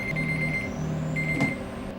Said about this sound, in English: That was our timer.